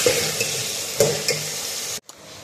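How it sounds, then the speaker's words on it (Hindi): Potatoes frying and being stirred in a pan for a palak aloo dish, a steady sizzle broken by a few sharp scraping knocks of the spoon, then a brief sudden drop before the sizzle resumes; no voices. "अब मैं इसे आलूओं के साथ थोड़ा सा फ्राई करूँगी"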